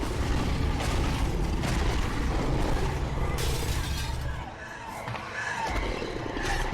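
Glass shatters in The Wolf Among Us video game, a loud crash followed by a long, rough rumble and rattling debris that dips and swells again.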